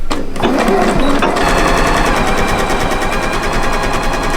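A sewing machine edge-stitching folded ribbon onto a pink tutu runs at a fast, loud, steady rattle close up, after a brief start-up clatter.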